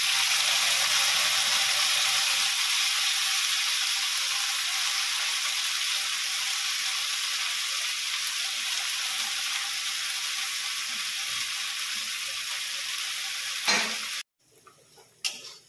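Chopped onion fries in hot oil in a pan, ahead of marinated chicken, giving a loud, steady sizzle that slowly eases before breaking off abruptly near the end, followed by a few soft clatters.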